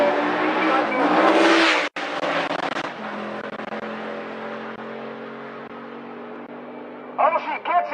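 A Ford Mustang and a Cadillac CTS-V launch off the line at a drag race, a loud engine roar swelling and then settling into a long steady drone, with a further burst of noise near the end.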